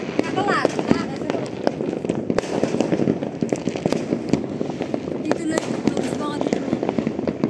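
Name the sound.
New Year's Eve fireworks and firecrackers exploding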